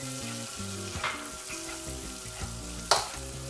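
Garlic sizzles in a hot pan before onion is added, the base of a creamy chicken, mushroom and spinach dish. Frying hisses steadily and close up, broken by a few brief stirring scrapes, with no talking.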